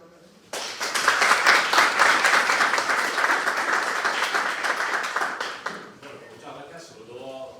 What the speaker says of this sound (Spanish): Un fuertísimo aplauso